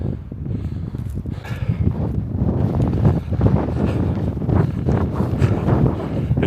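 Strong wind at the most easterly point of Newfoundland buffets the microphone in continuous gusty rumbles and roars, loud and close with no pauses.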